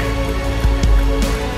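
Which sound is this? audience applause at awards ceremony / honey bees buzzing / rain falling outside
rain falling outside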